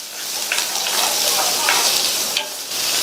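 Two medium-sized onions, cut and added to the same hot oil, sizzle steadily as they sauté, with a few soft stirring scrapes breaking through the continuous close frying hiss.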